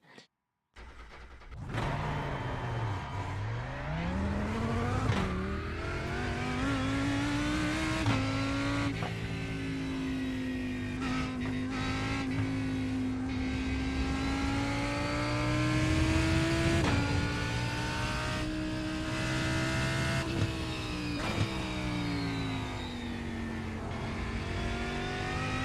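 A Mercedes race car engine in an IMSA or DTM racing video game revs and climbs loudly through the gears, with steady high-pitched whine and shifts, close and continuous throughout.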